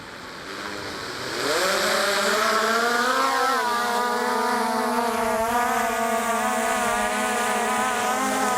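A Skydio 2 drone spins up and lifts off, its propellers rising from quiet into a loud, steady high whir with rising pitch, then holding an even buzzing drone close by, with no talking over it.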